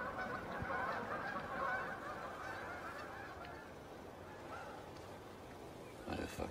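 Geese honking outdoors, a dense continuous chorus of calls running steadily throughout at moderate loudness, with a brief louder burst near the end.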